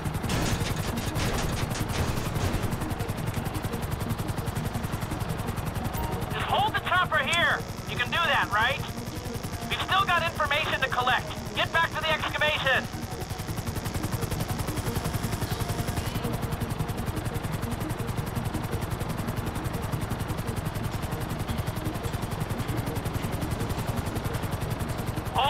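Helicopter rotor drone and bursts of gunfire in the game GTA 5, with several rapid clustered volleys over a steady loud engine wash, while a person talks throughout.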